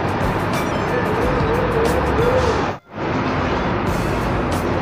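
A Sugeng Rahayu Patas bus pulls away inside the Anjuk Ladang bus terminal, its engine a loud, steady roar with a brief dip near the middle, busy terminal noise around it.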